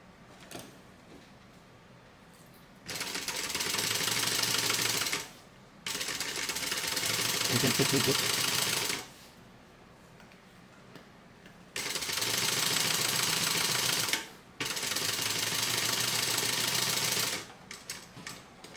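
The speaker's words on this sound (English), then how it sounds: "I'm just stitching the flap to the little tiny back section" A sewing machine stitches a bag flap onto a small back section in four sustained whirring runs of a few seconds each, separated by short quiet pauses, close and steady.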